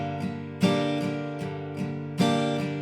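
An acoustic guitar strums the chord sequence of a song, with stronger accented strums on beats two and four, ringing chords in a steady four-beat rhythm, close and alone.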